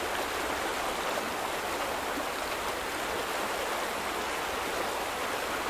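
Water rushes steadily through a dam as its level drops in the video game The Vanishing of Ethan Carter, a constant loud roaring wash with no breaks, no voices over it.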